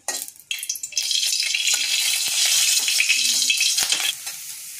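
Carrots stirred in hot ghee in a pan for carrot halwa give a steady close sizzle and frying hiss, with occasional spoon scrapes against the pan and no talking.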